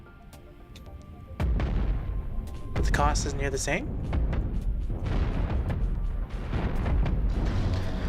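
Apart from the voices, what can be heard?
spaceship cannons firing in the video game Cosmoteer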